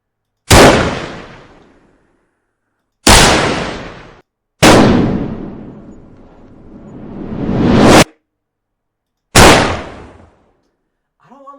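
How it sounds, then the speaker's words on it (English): Gunshot sound effects auditioned for a game, four loud, sharp blasts with booming decays, one played as a reversed swell rising into the next shot, separated by silence. "hardcore gunshot sound"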